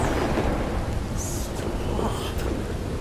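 Rolling thunder during a thunderstorm in the video game Red Dead Redemption II, a loud, sustained low rumble with a broad roaring wash that never lets up.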